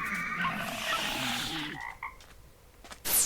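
A magic frog croaking in a Minecraft Shadows of Thaumaturgy modpack, a dense run of rapid croaks that fade out and are followed by a few scattered clicks and a brief bright burst near the end, with no talk.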